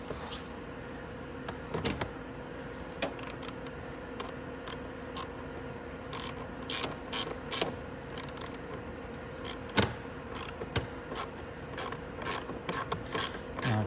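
Steering column on a Venom Grizzly 125cc ATV being screwed in with a ratchet, producing a close, continuous run of clicking pawl ticks with metallic rattles and faint rubbing, no talk.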